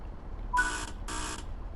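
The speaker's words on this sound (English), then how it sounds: "there we are, 2 on the buzzers" Two evenly spaced buzzer tones sound in the cab of a Scot Rail Class 158 train in Train Sim World 4, each about a third of a second, loud and clear over a low rumble.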